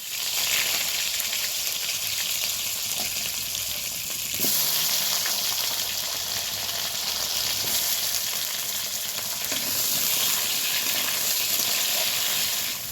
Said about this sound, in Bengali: কালো জিরে দেওয়ার পর এবার আমি লম্বা লম্বা করে কেটে রেখেছিলাম আলুগুলো, সেই আলুগুলো আমি তেলের মধ্যে অ্যাড করছি।